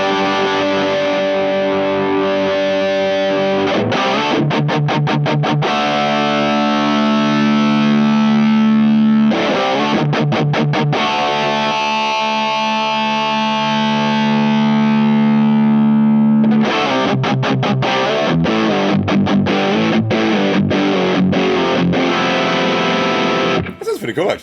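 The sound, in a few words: electric guitar through Caline Easy Driver overdrive pedal, distortion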